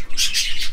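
Budgerigar chicks chirping in a breeding cage, a close, loud run of rapid high-pitched tweets pulsing in short bursts.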